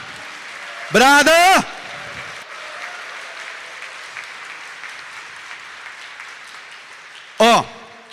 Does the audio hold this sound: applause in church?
yes